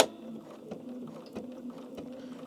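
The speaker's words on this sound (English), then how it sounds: "we are going to start sewing up the lining and the side seam" A sewing machine runs steadily as it stitches a garment's lining and side seam, with a soft continuous whir and faint rhythmic ticking from the mechanism, close by and with no talking.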